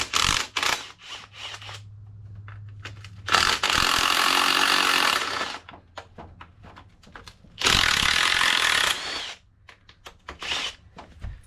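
A 15 mm ratchet works the actuator bolts off a 2004 GMC transfer case, with two sustained bursts of rapid clicking ratcheting separated by short clinks, taps and handling noises of the tool and parts, close by.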